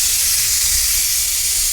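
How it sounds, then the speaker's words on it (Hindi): A pressure cooker boiling jackfruit lets out a loud, steady hiss of steam with its whistle going, close and unbroken, with no voices. "सीटी आ गई है गाइस"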